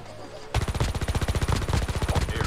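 An automatic revolver fires in a battle royale video game: a sudden, fast, loud burst of rapid repeated shots that runs continuously after a quiet start.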